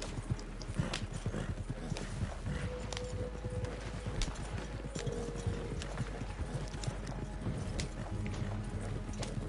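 Hooves pound in a fast, unbroken clip-clop as horses gallop in Red Dead Redemption 2, with faint whinnies here and there over a constant low rumble.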